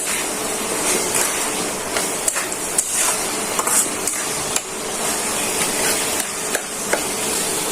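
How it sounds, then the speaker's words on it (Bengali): Red lentils with red chili powder and cumin are stirred and fried in a pan for an okra dal, giving a steady, loud sizzle broken by sharp knocks of the spoon against the pan. "এখন নেড়ে চেড়ে মশলাটা কষিয়ে নিচ্ছি।"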